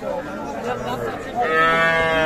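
A young Sahiwal bull calf, about two to three months old, lets out a drawn-out, nasal moo at a cattle market, rising clearly over the busy murmur of voices around it.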